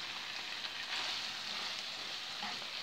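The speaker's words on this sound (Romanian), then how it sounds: "Acum adăugăm și pastele fierte." Steady, dense sizzling of boiled pasta being tipped into a hot pan of tuna sauce, a continuous close frying hiss with no voices.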